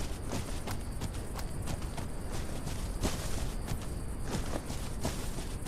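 A horse's hooves clop along steadily in an open-world historic survival delivery game, a busy run of close, even footfalls with no voices over them.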